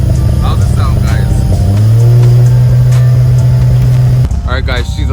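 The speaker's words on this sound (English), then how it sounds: "Starting to hear the rumble of the cabs" A Toyota Supra engine runs on its first start, a loud low steady idle that rises in a brief rev, with people talking over it nearby.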